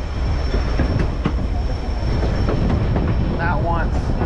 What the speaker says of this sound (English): You ever been on a cool train ride like this?